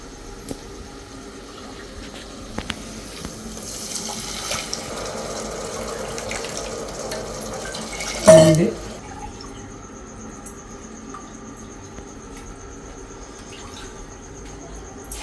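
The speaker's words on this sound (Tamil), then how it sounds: "ரெண்டு கிளாஸ்னால நாலு கிளாஸ் தண்ணி சேர்த்துக்கிறேன்" Water is poured into a pot of rice and cowpeas in one brief splashing burst, surrounded by quiet room noise and faint drips.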